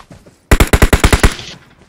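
Rapid automatic gunfire in PUBG Mobile during a Masters League match, eight loud evenly spaced shots in a tight burst after a brief quiet lull, ending with a short fading tail.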